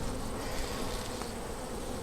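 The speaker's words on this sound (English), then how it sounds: "A lot of bees in here." Honey bees in an open hive with capped honey, worked while being prepped for winter, give a dense, steady buzz up close that fills the whole clip on its own.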